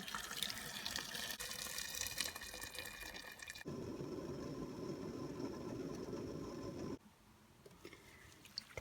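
Tap water runs steadily into a sink while foraged mushrooms and pine needles are rinsed in several changes of water, the flow shifting in tone partway through and then dropping to a quieter trickle near the end.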